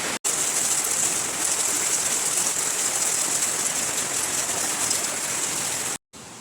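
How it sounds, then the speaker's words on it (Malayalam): Heavy rain pours down steadily outdoors, a dense, loud, unbroken hiss that fills the whole stretch, with a brief cut near the start and another near the end. "അപ്പോൾ ഗൈസ് പുറത്ത് നല്ല മഴയാണ്"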